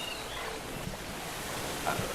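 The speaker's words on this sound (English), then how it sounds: "And heavy ocean sounds." Steady roar of heavy surf washing in continuously, with wind buffeting the microphone throughout.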